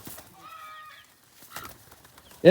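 Pigeons being fed in a backyard loft, with soft bird calls and a flutter of wings over a quiet background, ending in a sudden loud burst.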